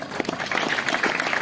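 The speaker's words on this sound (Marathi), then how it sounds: "जोरदार टाळ्या तुम्ही स्वतःसाठी वाजवा" Audience at a devotional bhajan singing program clapping together, a dense patter of many hands heard from within the hall, fairly faint and continuous throughout.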